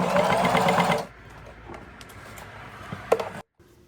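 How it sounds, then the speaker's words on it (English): A sewing machine stitches the waistband of a pair of jeans in a short loud burst, then stops, leaving quiet room noise with a few faint handling knocks. "It's important that you do the back stitch before and after of your sewing."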